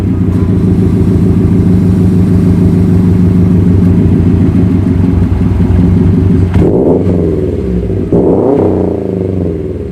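A Subaru WRX with a muffler delete idles loudly and roughly up close, then gives two sharp revs near the end, the raw exhaust rumble standing alone.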